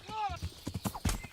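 Horse hooves clip-clop and a rising whinny sound in the medieval Kingdom Come Deliverance video game, brief and close, with someone talking over the hoofbeats.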